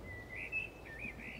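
Soft bird chirps used as an ambience sound effect, a few thin tweets heard faintly against quiet background hiss.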